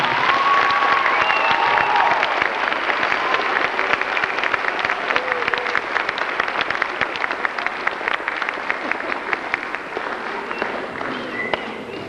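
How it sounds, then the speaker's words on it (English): Audience at a Christmas band concert at Tupelo Middle School in Tupelo, Mississippi, claps for the teachers, with dense, steady applause from a crowd filling the hall throughout, with a few faint voices mixed in. "If y'all please give them a round of applause for supporting."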